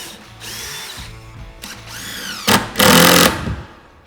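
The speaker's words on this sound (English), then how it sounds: "drill for the pilot hole." A power drill bores a pilot hole into YellaWood lumber for a railing bar top, with several short whirring bursts that rise in pitch, then a louder sustained grinding run into the wood before winding down.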